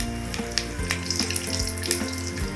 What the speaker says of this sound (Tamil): பாருங்க, கடுகு பொரிஞ்சிருச்சு. இப்போ கருவேப்பிலை சேர்க்குறேன்.